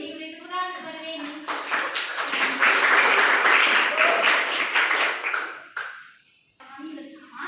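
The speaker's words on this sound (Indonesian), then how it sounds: "Beri tepuk tangan kepada Reni." A classroom of junior high students applauds a classmate at the front, a dense burst of clapping that runs for several seconds and then stops abruptly.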